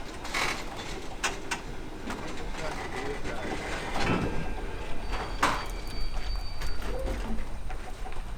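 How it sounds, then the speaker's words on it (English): Historic Kuckucksbähnel train being pushed back to the platform, with creaks, clanks and mechanical squeals over a low rolling rumble at moderate distance, faint background voices. "the train gets pushed back to the platform area and is now ready for departure in the opposite direction"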